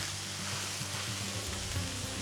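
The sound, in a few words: pork chops sizzling on a griddle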